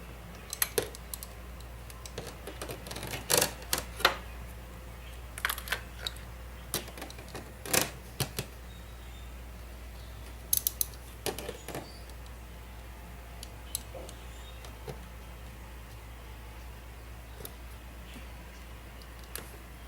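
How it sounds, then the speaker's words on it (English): A ratchet with spark plug socket and extension working on a 2013 Mercedes S550 W221 4.6L engine: scattered sharp metallic clicks and clatter in short irregular bursts, close and fairly faint, with no talk. "I got my ratchet, my spark plug socket with my extension on there."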